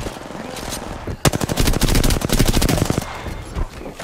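Rapid automatic gunfire in the Apex Legends battle royale game, a long dense burst of loud, closely spaced shots from about a second in, tailing off toward the end.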